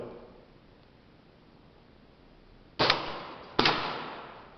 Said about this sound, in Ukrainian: І так, останній постріл.